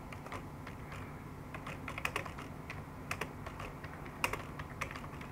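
Rapid, irregular computer keyboard clacking sits over a steady background hum, with a few sharper key strikes standing out, close and moderately loud with no voices.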